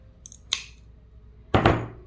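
Scissors snip through a piece from a mosaic butterfly kit, cutting it diagonally: two quick light snips followed by a louder, longer crunchy cut, close and alone.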